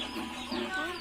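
Chickens cluck and murmur inside a poultry shed, a dense, continuous chorus of birds heard at moderate distance.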